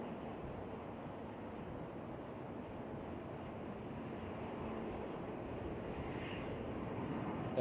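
A KLM Cityhopper Embraer E190 jet airliner at Amsterdam Schiphol gives a steady, broadband engine roar that holds evenly and swells slightly toward the end, heard from a distance outdoors.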